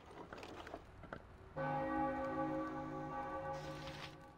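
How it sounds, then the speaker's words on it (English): In Baldur's Gate II, a ritual bell is struck once and rings out with a rich, sustained metallic tone that slowly decays, standing alone after some faint soft clicks. "And the bell again."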